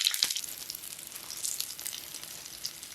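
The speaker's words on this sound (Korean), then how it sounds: "이번에 마늘을 넣어 구워볼게요." Garlic fries in a pan alongside potatoes, giving a bright continuous sizzle and spitting crackle close up, steady throughout with no voices.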